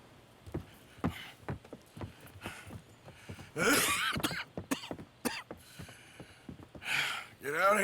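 Coughing from a character in the Red Dead Redemption 2 video game, several short rough bursts spread over the clip, some in quick clusters, with game sounds and other voice noises mixed around them.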